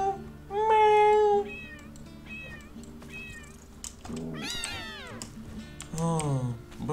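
A lynx kitten gives a series of meows, first a long, clear cry, then shorter, rising and falling calls, with a couple of louder, strained mews near the end in a quiet room.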